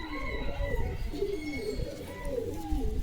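Pigeons kept for sale in a coop, including tail-clipped flying birds, coo in a low, continuous, overlapping murmur that runs steadily throughout, fairly close.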